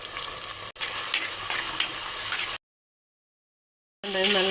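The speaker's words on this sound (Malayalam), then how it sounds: "നമുക്കിതിലേക്ക് ഇഞ്ചിയും വെളുത്തുള്ളിയും ഇട്ട് കൊടുക്കാവേ ഇതിലേക്ക് നമുക്ക് അരിഞ്ഞു വെച്ചേക്കുന്ന ചെറിയ തക്കാളി നമുക്കിതിലേക്ക് സവാള ഇട്ട് കൊടുക്കാവേ" Onion, ginger, garlic and chopped small tomato fry loudly in a pan for a homestyle fish curry. The sizzle is close and steady, with a sharp break early on and a gap of silence before the frying resumes.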